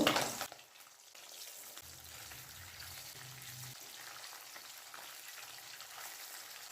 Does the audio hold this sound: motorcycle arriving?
no